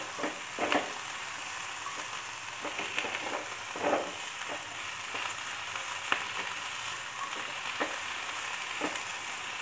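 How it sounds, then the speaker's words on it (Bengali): Vegetables for a paneer roll sauté in a pan over a medium gas flame, giving a steady close sizzle broken by repeated stirring clicks and scrapes, with no voices. "জাস্ট একটু সামান্য মিডিয়ামে আমি গ্যাসটা দিয়ে এটাকে একটু সতে করে নেবো।"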